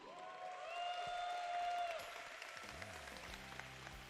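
Tournament crowd at the top 8 of a Granblue Fantasy Versus event applauds loudly and steadily, a dense wash of clapping that swells and then thins, with a tonal sweep and low rumbling beneath near the end.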